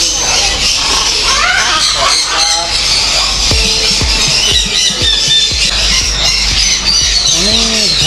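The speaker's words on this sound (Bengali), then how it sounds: "অনেক ধরনের পাখি এখানে" Parrots squawk and screech in a Bangkok pet market, harsh repeated calls rising over a busy, noisy crowd with people talking nearby throughout.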